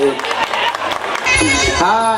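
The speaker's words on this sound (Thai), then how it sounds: "ปรบมือต้อนรับ ฟูจิยามะกันนรสิงห์มวยไทย" Crowd applause and cheering at a Muay Thai boxing event as the boxer Fujiyama is welcomed, dense clapping swelling partway through, with an announcer's voice over it.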